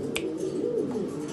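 A pigeon coos softly and steadily at close range, a low murmuring call with a brief click near the start and no talk.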